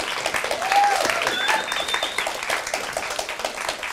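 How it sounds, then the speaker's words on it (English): A crowd applauds contestants steadily for a few seconds, a dense wash of clapping with a few brief whistles. "Let's give them a round of applause."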